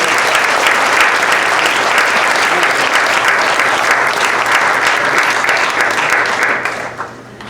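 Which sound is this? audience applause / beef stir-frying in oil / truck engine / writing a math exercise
audience applause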